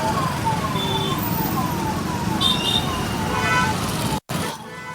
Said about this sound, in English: So there is a lot of traffic noise.